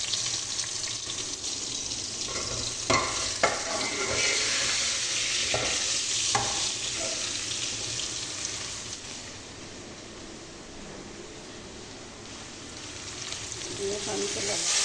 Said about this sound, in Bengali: পেঁয়াজ রসুন সুন্দর করে বাজিয়ে, লাল করে বাজিয়ে বাদে মশলা দিব